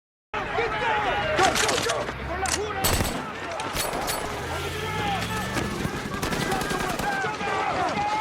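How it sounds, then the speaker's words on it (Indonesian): A police raid shootout in a prison action movie: rapid, loud gunshots and machine-gun bursts crackle over a busy soundtrack, with a narrator speaking over the fight. "terjadilah adegan baku tembak di sini"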